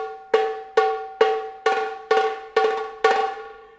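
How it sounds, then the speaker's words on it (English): A tambourine, a small frame drum, struck seven times in a steady rhythm with open strokes, each hit ringing out with a bright, jingling decay before the next. "I'm going to move now on to the tambourine, which is a very small frame drum."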